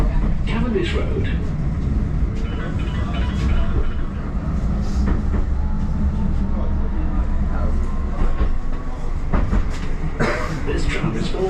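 A Blackpool tram rumbles steadily along the line toward Fleetwood Ferry, with a continuous low rolling drone, occasional rail clacks and creaks, and voices talking faintly inside the car.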